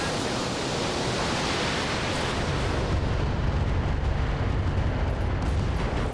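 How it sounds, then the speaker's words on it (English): A MechWarrior mech's ammunition explodes in a sustained, roaring blast, a loud, dense rumble that holds steady for several seconds with no pause. "an ammo explosion it is."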